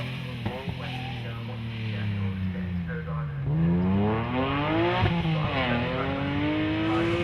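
BMW race car lapping Snetterton circuit in a circuit rally, its engine note rising and falling through gear changes, sustained and fairly close, with a commentator talking over it.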